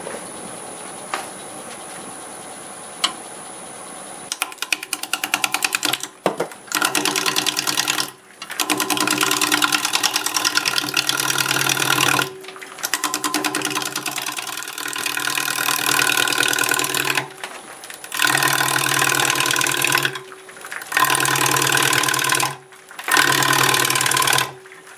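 A wood lathe turns a black walnut bowl blank at about 600 RPM. A 5/8 bowl gouge cuts it in a loud, steady rasping hum that breaks off briefly several times as the cuts stop and restart.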